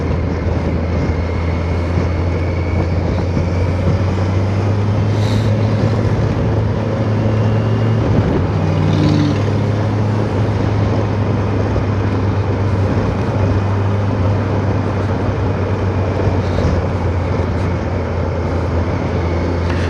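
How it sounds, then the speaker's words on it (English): A 2021 Kawasaki Versys 1000, a 1000 cc motorcycle, ridden on city streets at a demo day, its engine a steady, loud, continuous drone with wind rush throughout, heard up close without speech. "Even though it's, you know, it's a 1000 cc bike, it handles like a middleweight bike."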